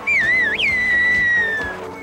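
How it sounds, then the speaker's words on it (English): A single loud, shrill finger whistle rises sharply, sustains a long bright tone with a quick upward flick, then fades, heard alone without talk. "Have you ever tried whistling with your fingers?"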